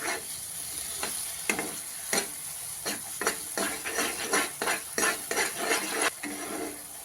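Amaranth flour sheera roasting in ghee while being stirred in a pan, a steady sizzling hiss broken by a rhythmic series of scraping spatula strokes, close and clear with no talking.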